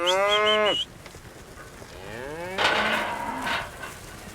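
Cattle being herded onto new ground moo loudly and close, with one long call, then another drawn-out moo a moment later.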